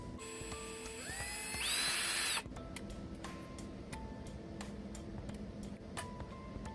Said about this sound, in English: So we got to drill a hole.